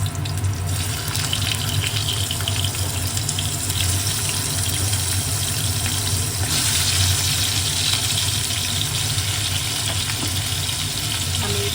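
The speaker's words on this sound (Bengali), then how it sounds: "এবার আমি দিয়ে দেবো গ্যাসটা কমিয়ে আলুগুলো।" Potatoes go into hot oil in a pan over a gas flame, giving a loud, continuous hissing sizzle that persists steadily throughout, slightly intensifying partway through.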